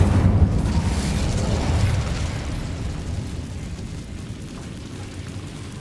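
An Incendio fire spell cast in the Hogwarts Legacy video game: a loud, dense roaring burst of flame that swells at once, then slowly dies away into a fading rumble, with no voices.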